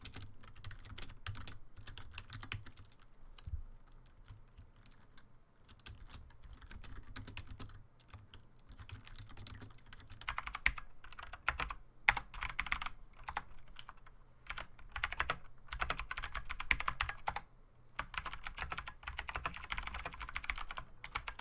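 Hard, sharp clicks from a Gamdias Hermes RGB keyboard with clicky keys, typed in a steady, dense stream that grows louder and busier halfway through, close to the microphone with no talking.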